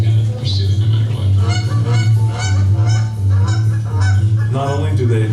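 A flock of geese honks loudly and continuously, overlapping nasal calls filling the whole stretch with no speech.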